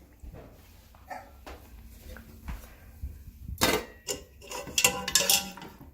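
Clattering metal cookware as a lid goes onto a pot of makluba in a home kitchen, a few sharp clanks and scrapes bunched toward the end after quieter handling noises.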